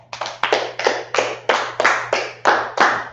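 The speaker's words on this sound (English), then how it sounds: "All right, clap it up." A class claps hands together, about ten sharp, evenly spaced claps in a steady rhythm, close and loud over a faint low hum.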